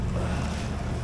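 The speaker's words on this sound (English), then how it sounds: "it's a bit breezy" Chilly wind gusts steadily across an exposed coastal viewpoint on Norway's Troll Road, buffeting the microphone as a constant broadband rush with a low rumble and no clear pauses.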